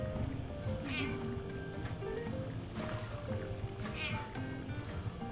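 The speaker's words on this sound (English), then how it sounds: "Hey, a cat." Cat meows twice with rising upper-pitched calls inside the video game Hello Neighbor 2, set against a busy game soundtrack and layered background noise while players talk.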